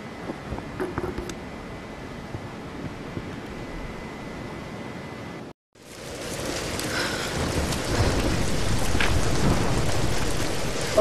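Thunderstorm in the Tomb Raider video game: steady hiss of heavy rain with a low rumble, a brief dropout, then a louder, denser downpour with rolling thunder.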